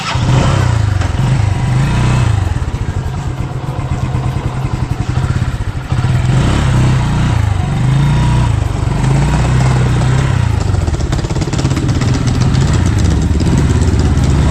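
A motorcycle engine idles steadily and loud at close range, with a low throbbing pulse and some mechanical clatter running unbroken throughout, no voices.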